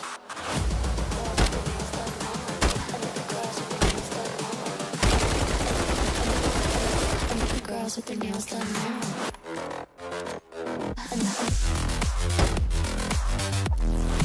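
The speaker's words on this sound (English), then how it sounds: "The CR-56 Assault Rifle is a light weapon that helps with movement speed and recoil control" A CR-56 assault rifle fires in a Call of Duty game, with sharp repeated shots and bursts over several seconds, interspersed with game music and a voice talking.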